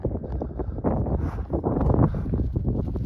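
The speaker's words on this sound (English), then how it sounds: "windy out here tonight." Night wind on the Pacific Crest Trail buffets a tent site ringed with rocks, a loud, continuous, gusty roar pressed close against the microphone with no voices.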